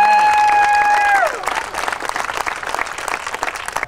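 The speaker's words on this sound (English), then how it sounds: "It's good to clap." A crowd at an Annapolis Tea Party rally breaks into clapping after a brief sustained electronic tone; the applause starts full and then thins into scattered, uneven claps.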